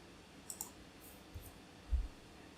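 A computer mouse gives a few faint, quick clicks, spaced apart, then a slightly louder pair near the end, in a quiet room.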